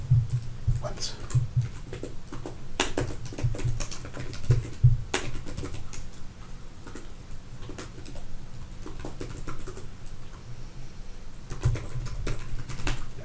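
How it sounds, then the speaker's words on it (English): Steady typing on a computer keyboard, entering keywords into article submission metadata, rapid clicks in bursts with short pauses, close by, with low background hum and occasional voice. "just typing them in and pressing enter creates these keywords"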